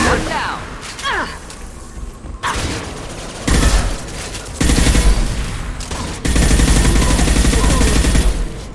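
Gunfire in the video game Mass Effect 2 rattles in sustained automatic bursts that grow louder and denser, broken by brief pauses, with in-game voices calling out over the firefight.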